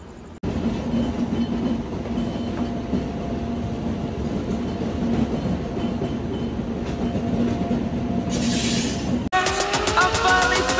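The Gouthami Express rolls along the rails on a night run from Samalkot to Secunderabad, a steady close rumble with rhythmic wheel clatter that gives way near the end to a sharp break and brighter metallic ringing tones.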